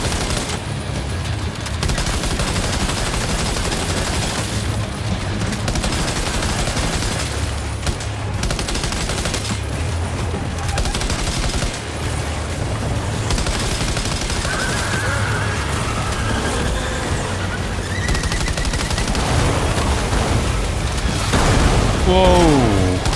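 Rifle gunfire in Death Stranding 2 crackles in dense, continuous bursts across the whole stretch, mixed with booms and game effects, with a voice talking over it.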